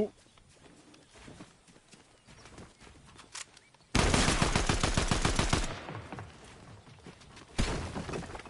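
Fortnite gunfire, bursts of rapid automatic shots after a quieter stretch of scattered sounds, loud and close, with a second burst near the end.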